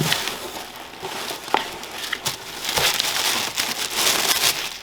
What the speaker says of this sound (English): get the tissue paper out of there.